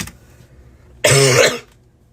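One harsh, close cough bursts out loud over a quiet room hum, lasting about half a second and then fading away.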